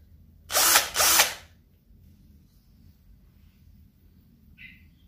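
A Keelat cordless electric drill whirs in two quick, close bursts lasting about a second in all, then stops; a faint chirp follows in the quiet.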